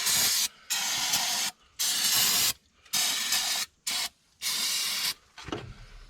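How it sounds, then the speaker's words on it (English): Parts cleaner sprayed into the carburetor of a 1964 Ford Fairlane 500 hardtop, heard as five or six sharp hissing bursts of aerosol separated by short pauses, close and fairly loud. "Carburetor's choked in parts cleaner."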